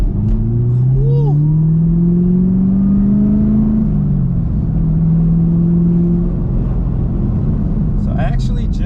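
A tuned Chevrolet Camaro ZL1 accelerating hard, its engine droning and climbing in pitch from inside the car, steady and loud throughout, with a brief voice near the start.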